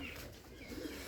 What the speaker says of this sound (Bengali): দেখুন ওই যে একজোড়া কবুতর।